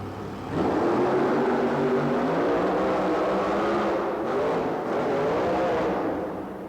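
Monster truck engine roaring through a racing pass, a rear-engined truck in a 1989 event, loud and sustained with a rising, droning growl that swells in after a brief start and holds steady before easing slightly at the end.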